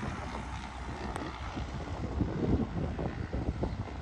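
An airplane waits near a roadside for takeoff, its engine giving a steady low rumble and hum with wind buffeting the microphone, growing slightly louder and rougher toward the end.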